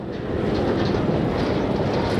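Train running near Patliputra Junction on the line from Hajipur, a loud, steady, close rumble with dense rolling wheel noise throughout.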